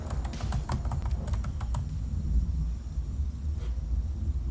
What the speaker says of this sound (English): I want to see you typing.